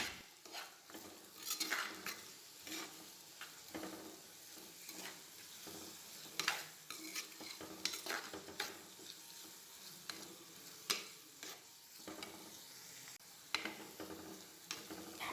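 Onions, shallots, garlic, ginger and green chillies sauté in a pan for prawn roast, a soft steady sizzle punctuated by repeated scrapes and clinks of a spoon stirring against the pan, close and without talk.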